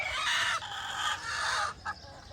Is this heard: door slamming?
no